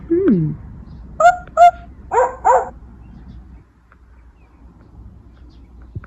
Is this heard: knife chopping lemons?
no